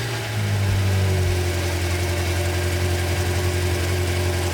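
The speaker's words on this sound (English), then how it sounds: "the instruction says to start the engine to get the oil up to temp" BMW F10 M5 engine starting up and settling into a steady idle, a low even hum held close and constant for several seconds with no talk.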